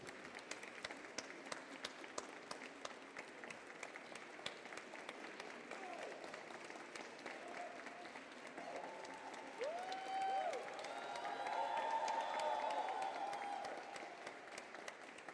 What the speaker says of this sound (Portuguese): Recebam essa salva de palmas.